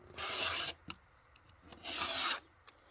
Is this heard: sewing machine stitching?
no